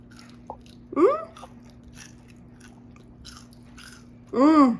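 Two crunchy bites into fried smelt, close and loud, separated by a quiet stretch; a short vocal sound accompanies the first bite.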